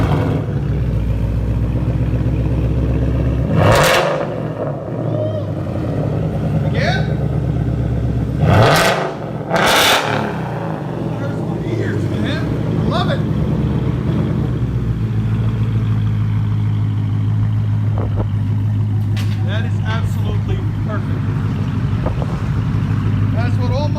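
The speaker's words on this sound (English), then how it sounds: "We'll let you guys hear it in a second." A Ford Mustang 5.0 with blue flame exhaust tips rumbles in a deep, steady idle with a few sharp revs, loud and close, while people talk over it.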